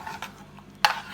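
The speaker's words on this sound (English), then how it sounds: "stir it in properly, and then I'm gonna cover it a little more for it to cook" Jamaican cornmeal porridge with coconut milk stirred in a pot: soft scraping swishes followed by one sharp clink of the spoon against the pot, close by.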